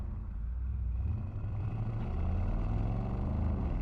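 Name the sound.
Mercedes-AMG SL rumble at low speed in comfort mode, exhaust on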